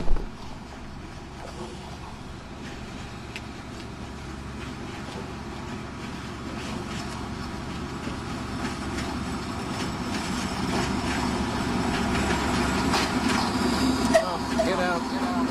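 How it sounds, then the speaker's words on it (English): A main line train rumbles past steadily near a narrow gauge line in the Balkans, building gradually in loudness with rail clatter throughout. "We're now waiting for a main line train to come through"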